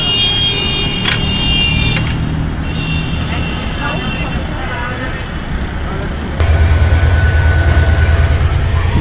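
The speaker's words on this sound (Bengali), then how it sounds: "দিল্লি জংশন স্টেশনে ঢুকছে আমাদের ট্রেন" Passenger train, the Netaji Express, rolling into Delhi Junction station, a steady broadband rumble with clatter that swells louder and heavier toward the end, with faint voices in the background.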